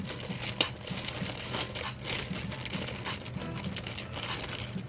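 Plastic wrapping crinkles and rustles continuously while a Pioneer 8200NEX car navigation head unit is unpacked, a close, steady scrunching with one sharper crackle near the start.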